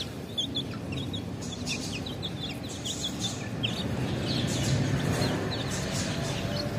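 Chickens and small chicks eating feed, giving soft repeated clucks and high peeping chirps over a steady rustling background, moderately close and continuous throughout with no talking.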